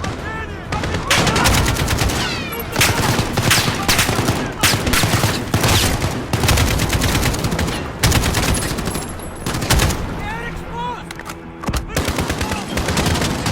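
Heavy gunfire and mortar blasts in the video game Call of Duty: Modern Warfare, with dense overlapping bursts and booms that run continuously at high loudness; a voice shouts briefly in the mix.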